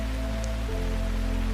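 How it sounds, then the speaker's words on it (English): Rain falls through the canopy of a great oak in woodland at night as a soft, even patter with a constant low hiss. It is steady and gentle throughout, with no voices. "with the rain moving through the canopy of the great oak above you"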